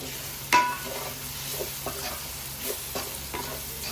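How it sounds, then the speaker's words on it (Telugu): Masala frying in oil for a fish curry, a soft steady sizzle broken by several sharp scraping stirs of a spoon against the pan, close and fairly quiet. "ఈ మసాలా అనేది ఎంత వేగితే మనకు అంత టేస్ట్ వచ్చిందండి"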